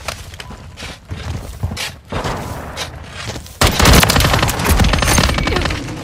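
Intense automatic gunfire in Call of Duty: Modern Warfare 3 War Mode, loud close bursts separated by brief pauses, swelling into a sustained, dense fusillade with booming reports.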